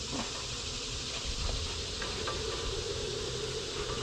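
A dense, continuous buzz of many bees fills the air, steady and fairly faint, with no talking.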